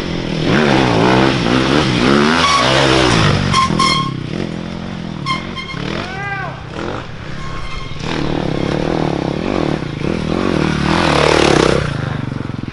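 Several dirt bikes race over an old golf course, their engines loud and close, revving hard and shifting through gears in a continuous snarl with occasional clattering.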